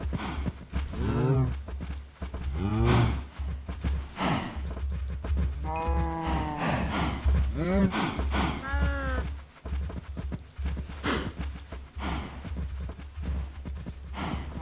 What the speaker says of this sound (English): Yeah, I'm gonna have a lot of baby cows.